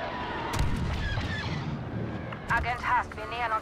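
Blaster fire from a TIE fighter in the Star Wars Battlefront 2 video game, a quick burst of bright zapping shots with game voices and engine noise underneath.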